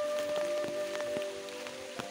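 Rain falls on a muddy village in rural Bangladesh, a steady close patter with scattered sharper drops striking nearby surfaces, with no voices.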